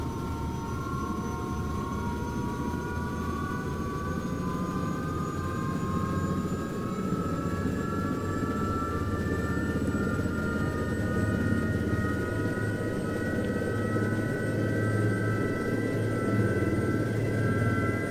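Eurocopter EC120 turbine helicopter spooling from idle up to 90 percent flight power, a steady close roar with rising whine tones climbing slowly and continuously.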